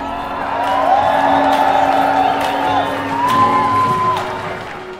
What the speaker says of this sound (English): the crowd started screaming, cheering, because the Northern Lights somehow appeared